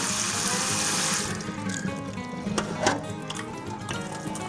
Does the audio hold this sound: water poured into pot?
yes